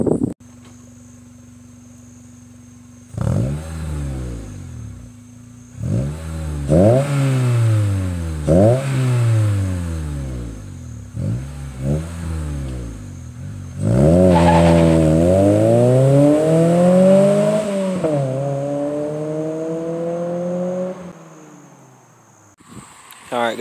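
An Acura RSX base fitted with an HKS Hi Power exhaust revs up and pulls away through repeated rising and falling throttle sweeps, ending in a longer sustained pull, loud and close.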